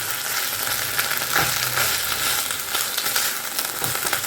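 Minced meat fries in a pan over a low gas flame with a steady, close sizzle. Soft crackles and stirring scrapes run through it, and no one speaks.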